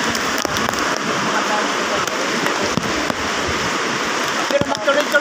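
Heavy rain pours down during flooding in a dense, continuous hiss with occasional louder patters, steady throughout.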